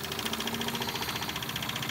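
A Wilesco D20 model steam engine runs steadily with a fast, even mechanical chuffing and ticking, fairly quiet and close, with no talk.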